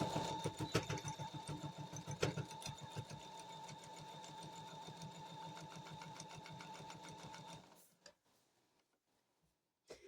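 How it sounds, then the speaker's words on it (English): A home sewing machine stitches a quarter-inch quilting seam, backstitching at the start and end: a steady, rapid mechanical whir and tick runs close and loud for about eight seconds, then stops, leaving near silence. "I'm going to back stitch as I go at the beginning and the end."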